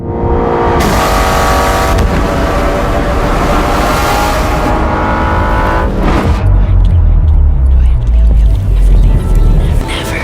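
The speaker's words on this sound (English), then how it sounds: "The Aston Martin V12 Vantage S is powered by a 6-liter V12 engine that delivers 565 horsepower and 457 pound-feet of torque." An Aston Martin V12 Vantage S with a 6-litre V12 engine revs loud and sustained in the racing game Need for Speed No Limits, its tone shifting partway through before settling into a deep, heavy rumble.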